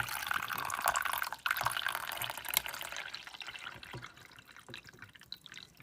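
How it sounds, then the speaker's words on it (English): Water pours into a coffee maker's reservoir, a faint trickling splash that is steadiest in the first three seconds and then tapers to thin dribbles and drips. "I'm gonna pour in the water up to the max fill line"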